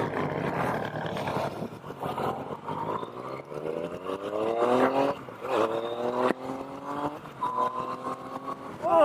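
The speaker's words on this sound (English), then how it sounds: "Oh, the sound of this engine!" A 2017 Yamaha FJ-09 (Tracer 900) three-cylinder motorcycle engine revs repeatedly, its loud, raspy pitch sweeping up and falling back in several rising pulls, close and unaccompanied by talk.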